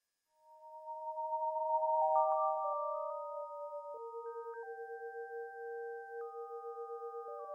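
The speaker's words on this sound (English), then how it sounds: "If you want to give the oscillator an analog warping sound, you can go back to random 1 and link it to the fine pitch." A Vital software synth oscillator with random modulation linked to fine pitch for an analog warping effect, pure sine-like tones stepping between held pitches with a slight wobbling flutter, quiet and isolated.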